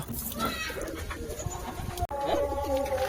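Pigeons, among them sick young birds being treated, coo in soft repeated calls close by, with a sharp knock partway through and faint background noise.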